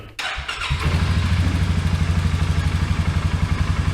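A 2018 Polaris Sportsman 450 HO ATV engine cranks with a thud and catches almost immediately, then settles into a loud, close, steady idle with an even pulsing rhythm.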